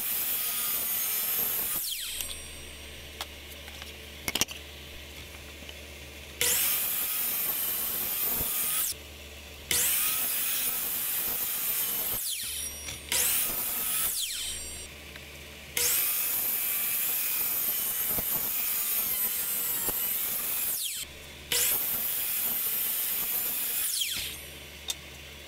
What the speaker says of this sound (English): I just brought them over to the miter saw and cut off all the excess